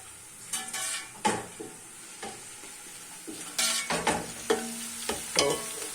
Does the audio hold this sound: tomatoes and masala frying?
yes